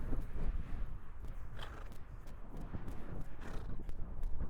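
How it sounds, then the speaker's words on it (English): A horse trots around a big arena, its hooves falling in a quick, even clip-clop rhythm over a soft footing, close by and moderately loud, with faint background noise and no clear talk. "I put her back into that trot."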